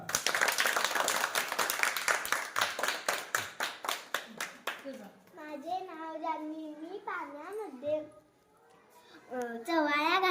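A group of children claps hands in a fast, loud burst of rhythmic claps that gradually slows and thins, followed by children speaking and chanting together.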